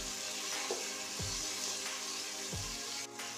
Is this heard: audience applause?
no